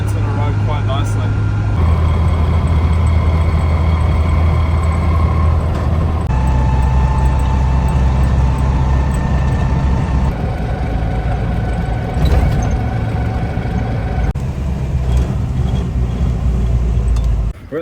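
A Land Rover cruises along a country road toward a showground, its engine a steady, close drone that steps in pitch with each gear change, while someone talks over it.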